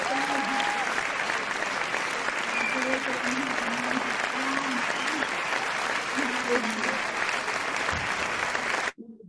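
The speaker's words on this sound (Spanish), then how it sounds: "voy a dar aplauso para usted" An audience at a speaker event gives sustained, even applause that fills nearly the whole stretch, with a voice speaking faintly through it before the clapping cuts off abruptly at the end.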